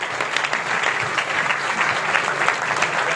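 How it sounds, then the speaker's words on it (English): Audience applause for officiating guests at the opening of a Hong Kong cultural centre, steady dense clapping from a large crowd filling the whole stretch at even loudness. "Let's give a big hand again to all our officiating guests."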